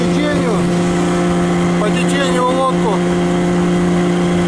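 A boat's motor drones steadily and loudly throughout on a river at spring water level, the boat heavily loaded and planing, with a voice speaking briefly in Russian over the engine noise.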